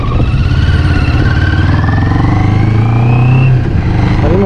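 A CFMOTO NK motorcycle engine rides out onto the road, droning steadily at close range with a rising, revving pitch before easing off near the end, loud and continuous with no talk.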